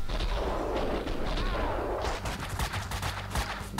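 Enemy gunfire in the Max Payne 2 video game, a rapid burst of repeated loud shots that grows denser toward the end, with little or no talk over it.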